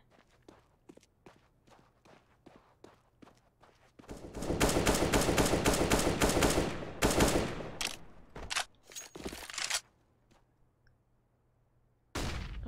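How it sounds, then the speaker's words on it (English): Scout sniper rifle fire in a Counter-Strike match on the Dust2 map: a dense stretch of loud gunfire and impacts follows soft footstep ticks. Several sharp bursts come after it, then a pause, and one more loud shot lands near the end. "Searson gets the headshot there on Groovy"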